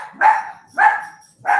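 A dog barks three times at a steady, evenly spaced rhythm, fairly close, with no talking over it.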